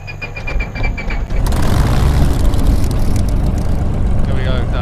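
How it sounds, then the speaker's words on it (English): A Spitfire's Merlin engine in the MSFS 2020 flight simulator cranks over and catches, settling into a loud, steady propeller drone that fills the rest of the clip. "we actually listen to what a Merlin engine is like when it starts up"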